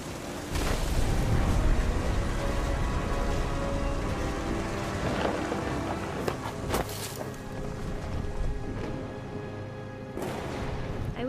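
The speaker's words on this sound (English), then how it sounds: "The thunder sounded much too close and full of angry power." Heavy rain and stormy rumbling from the video game What Remains of Edith Finch, a steady broadband downpour with deep low-end swells and occasional louder bursts, continuous and close throughout with no talk.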